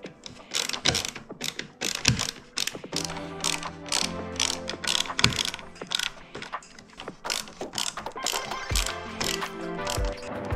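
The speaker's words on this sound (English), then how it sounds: "reinstall the mirror housing with all the screws from before" Quick bursts of a ratcheting screwdriver clicking as screws are driven back into the mirror housing of a C8 Corvette, a rapid uneven series of close mechanical ticks and pauses.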